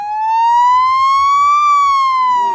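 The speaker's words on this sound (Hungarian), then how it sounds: "a rendőrautók szirénája pedig szinte egyfolytában szólt" A police car siren wails loud and close at a public safety demonstration day, one long rising and slowly falling tone with strong harmonics, faint low rumble beneath, no talk.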